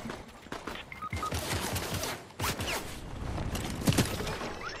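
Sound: gunfire from a bot in a video game

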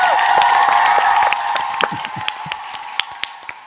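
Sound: audience applause

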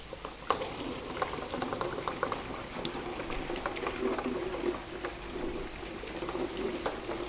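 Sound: fresh water hose rinsing carbon out of a purifier vessel

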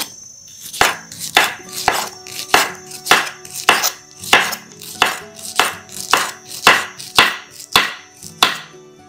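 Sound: peeling pineapple with a knife

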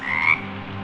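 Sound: frogs croaking in the rain

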